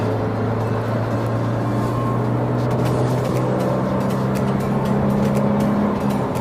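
Steady engine drone and road noise from inside a moving car at highway speed, overtaking a truck, a continuous hum with no talking.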